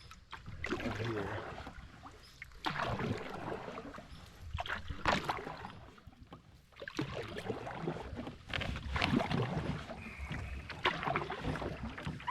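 Solo canoe paddled with a single paddle on open water in Point Grondine Park, repeated swishing strokes and splashes in a steady rhythm, with light wind noise.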